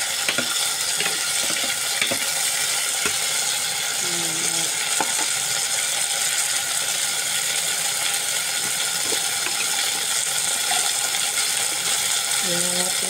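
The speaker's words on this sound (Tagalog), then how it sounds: "Ilagay na rin natin ang sili. Sigisa ko lang po yun guys." Chilies sauté in a pan with a steady, hissing sizzle close by, and a spatula scrapes and clicks against the metal now and then.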